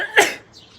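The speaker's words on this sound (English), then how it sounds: "I'm going to sneeze, hold on." One sharp, close sneeze bursts out, followed by a brief breathy tail and quiet.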